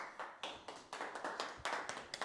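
A few hands clap in an uneven, sparse rhythm, sharp individual claps close by with no talking.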